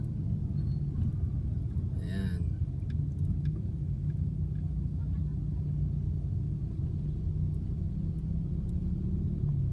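A motorized tricycle at Wawa runs with a steady, low engine rumble for the whole stretch, fairly close, while a voice speaks briefly over it.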